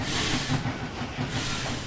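A Zecrail VR V Class locomotive hauling a mixed freight consist in Train Simulator 2019, a steady rolling rumble with hiss and faint clickety-clack of wagons, continuous and even.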